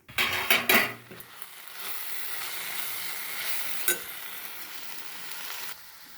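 A flat bean and tomato curry cooks in a pan, a few loud clattering stirs at the start giving way to a steady, close sizzle and frying hiss, with one brief knock partway through.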